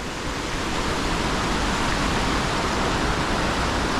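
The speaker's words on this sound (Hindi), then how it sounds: "देखो नदी में कितने सारे बड़े बड़े चट्टानें पड़ी हुई हैं और पानी बहता हुआ पानी कितना मधुर आवाज़ कर रहा है।" A river near Kainchi Dham tumbles over large rocks in a valley, giving a loud, steady, dense rush of flowing water with no pauses.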